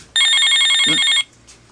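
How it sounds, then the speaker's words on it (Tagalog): A cellphone rings with an incoming call, a bright electronic ringtone trilling rapidly for about a second, loud and close, followed by a faint short echo of the tone. "May kapanawag sa cellphone ko."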